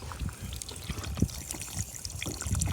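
Water runs from a copper garden spigot outdoors, a steady trickling stream with small splashy bursts and a slight swell toward the end, fairly close and moderately loud with no talking.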